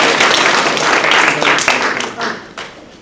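Audience applause at a TEDx talk in Hackensack, a dense steady wash of many hands clapping that fills the room and then tapers off toward the end.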